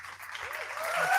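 Applause sound effect played on a live beat-making podcast, a steady wash of clapping that swells slightly toward the end, with faint speech-like tones underneath.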